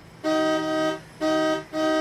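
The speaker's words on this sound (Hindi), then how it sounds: "अरे पीछे वाली गाड़ी को क्या चाहिए? कब से हॉर्न बजाया जा रहा है?" Loud car horn honking from the car behind at a red light in traffic, three blasts, two long and one shorter, with no one talking.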